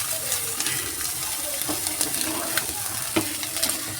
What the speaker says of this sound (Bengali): যেটুকুনি প্রথমে তেল দিয়েছিলাম সেই প্রথম তেলে আমার সব ভাজা হয়ে গেছে।